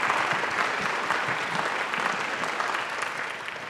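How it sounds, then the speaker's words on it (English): Sustained applause from a seated audience after an introduction at a mindfulness panel discussion, steady and dense throughout with no voices breaking through. "Could we give them a resounding round of applause for their efforts?"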